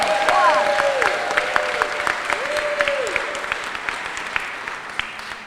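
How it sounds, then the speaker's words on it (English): A crowd applauding the mayor for the day at a Waterbury LGBTQIA+ Pride event, steady clapping throughout with whooping cheers rising over it early on. "Let's give her another round of applause."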